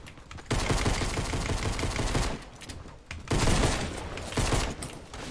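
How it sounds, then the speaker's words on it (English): Sustained automatic gunfire erupts in Fortnite Battle Royale, dense rattling bursts from many shooters in two long loud volleys with a brief gap between them. "there's like 10 guys shooting"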